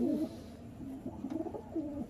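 A crested Saharanpuri pigeon coos close by in a short, soft run of throaty, rolling calls.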